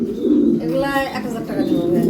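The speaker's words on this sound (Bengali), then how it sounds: "অনেক সুন্দর কবুতর" Pigeons at a pigeon farm, including Lakkha pigeons, coo in low rolling throaty calls close by, layered over one another, with a person speaking at the same time.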